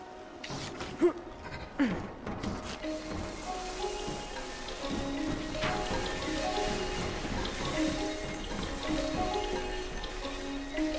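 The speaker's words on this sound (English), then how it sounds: "a little rain never hurt anyone" Rain falling in the video game Concrete Genie, a constant patter of drops on surfaces with a few louder splashes early on, steady and close throughout.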